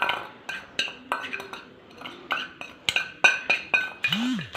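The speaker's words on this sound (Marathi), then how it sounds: "चमच्याने एकदम प्रॉपर मिक्स करून घ्यायचं" A spoon stirs and mixes chapati noodles with ginger garlic paste in a bowl. Close metallic clinks and scrapes arrive in an irregular series and grow busier toward the end, with no talk.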